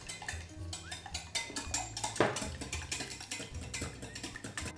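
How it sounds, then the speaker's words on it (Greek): Eggs beaten by hand in a bowl for tsoureki dough, a quick rhythm of whisk taps and clinks against the bowl, fairly close and quiet, with one sharper knock midway. "Χτυπάμε τα αυγά."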